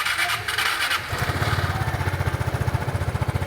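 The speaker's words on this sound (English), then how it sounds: "the noise level is very similar to a stock exhaust" A Vespa GTS scooter engine with an Akrapovic aftermarket exhaust runs close by with a rapid, rhythmic putter, louder and more pulsing after the first second.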